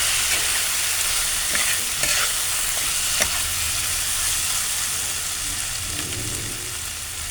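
Spices with green chilies are stirred in a hot frying pan, a steady loud sizzle under scattered scraping strokes of a spoon, close up, with no voice.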